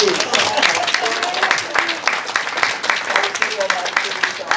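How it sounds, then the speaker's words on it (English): Sustained audience applause at the close of a program, dense and steady clapping from a crowd throughout, fairly loud with no pauses. "let's hear applause for Bernice."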